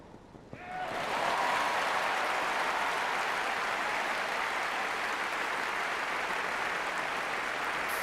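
A crowd roars and applauds at a 2012 Wimbledon quarter-final tennis match, swelling suddenly after a quiet start into loud, sustained, dense clapping.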